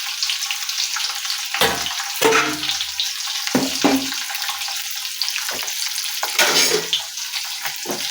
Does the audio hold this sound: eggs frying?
yes